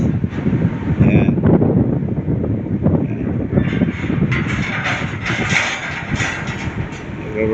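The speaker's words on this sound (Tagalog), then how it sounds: "malakas yung hangin dito sa taas nito guys kasi bagyo no" Strong typhoon wind roars and buffets steadily across the whole stretch, up high by the sea, with gusty low rumbling and intermittent rattling, loud and close.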